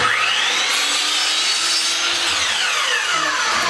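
The carriage of a Ridgid R4221 12-inch sliding compound miter saw slides back along its rails, a smooth loud continuous rubbing glide heard up close with no talk.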